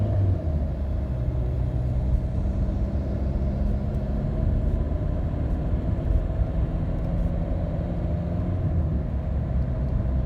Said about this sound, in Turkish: Evet eco mod kapalı şu an daha güzel hızlanıyor.